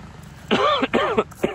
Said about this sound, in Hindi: यहाँ खांसी बढ़ी जाती है